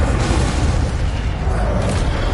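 A Harry Potter Incendio fire spell erupts in a continuous, dense, booming roar, loud and even from start to finish.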